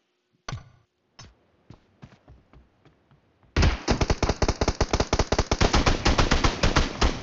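SKS rifle fire in PUBG Mobile: a few scattered single shots with pauses, then a rapid sustained burst of sharp, evenly spaced cracks, loud and close.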